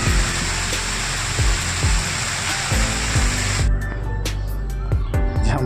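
A monsoon waterfall near Shahapur in Thane district roars steadily and loudly up close, a dense broadband rush of falling water with occasional low thuds underneath, unbroken for the whole stretch.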